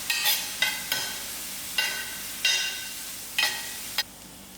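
Onions sizzle steadily in a hot pan for rasam, with about six sharp scraping stirs of a spoon breaking through at fairly regular intervals, close and fairly loud, and no voices.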